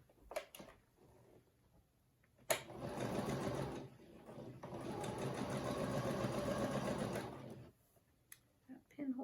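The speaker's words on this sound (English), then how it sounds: "I'm going to sew one more time on this edge." A sewing machine stitching quilt blocks runs in a long, even burst of rapid needle chatter, with brief clicks and a quiet voice before and after.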